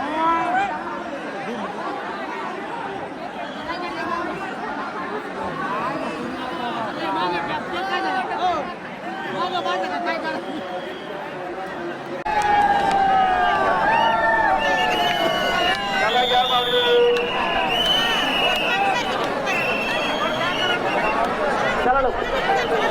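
Dense crowd chatter from a huge gathering of Wari pilgrims near Namdev Payri heading toward the river, a continuous babble of many voices that swells louder midway, with some nearby talking mixed in.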